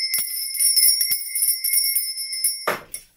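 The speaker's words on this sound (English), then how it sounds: "I've just realised I have not rang my bell" A small bell is rung to clear the space, giving bright sustained ringing with repeated strikes and a final louder clang as it fades, close and clear with no talk.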